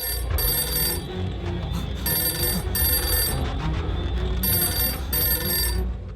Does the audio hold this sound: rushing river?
no